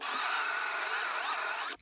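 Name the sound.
power drill boring through a door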